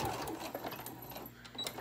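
A sewing machine stitches the seam of a lunch tote bag with a close, continuous rapid whirring and needle clatter, fairly quiet and lasting under two seconds.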